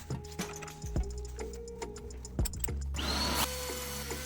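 A wood trimmer fitted with a 21mm bearing-guided roundover bit rounds the corners of a coated plywood panel: a steady motor whine with scattered ticks and a brief harsher cutting burst.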